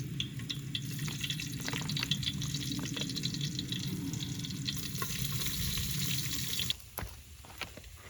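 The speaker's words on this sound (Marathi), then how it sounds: "मस्तपैकी कांदा परतून झाला" Steady sizzling of onions frying in hot oil, with occasional stirring sounds, until the sizzle suddenly drops off near the end.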